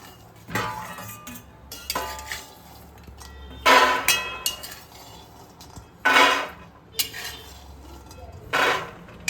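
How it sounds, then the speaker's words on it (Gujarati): Freshly roasted peanuts clatter from a pan into a dish in a few sharp bursts of rattling and metallic scraping, separated by quieter pauses. "આપણે એક ડીશમાં કાઢી લઈશું."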